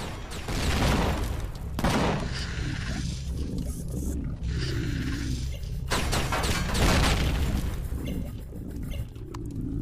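Loud, sustained roaring bursts of weapon fire in the survival game Empyrion Galactic Survival, in several long waves with brief gaps between them.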